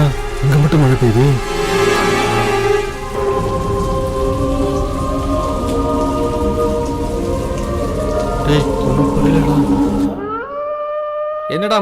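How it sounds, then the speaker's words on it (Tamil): Heavy rain pours down in a Tamil horror film scene, a dense, loud hiss under voices and tonal sound, with rumbling that fades into quiet at the end. "என்னடா இங்க மட்டும் மழை பெய்யுது?"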